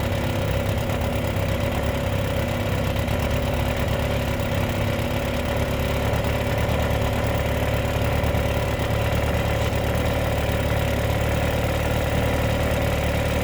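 A 1957 Mercury Mark 10 outboard engine, run after sitting 45 years, idles after a carburetor adjustment with a steady close mechanical drone and light clatter, holding an even pitch throughout without speech.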